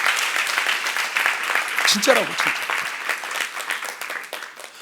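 Church congregation applauding during a sermon at a youth service, steady clapping throughout under a preacher's voice speaking over it.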